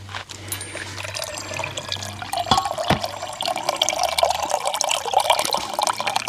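Water runs steadily from a tap or jug into a container to dilute juice on a family farm, a continuous close splashing with faint drips and no talk.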